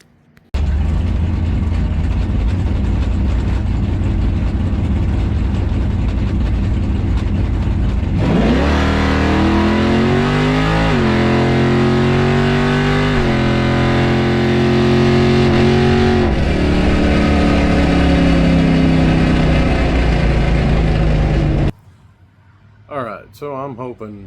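A drag car with a newly installed torque converter runs loudly from inside the cabin, its engine droning steadily and then revving through rising and falling pitch sweeps before cutting off abruptly near the end.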